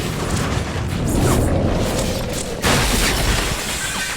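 A bomb blast in a hospital drama scene comes as a loud, sustained roaring rumble, with a second heavy surge partway through, dense and close with no voices.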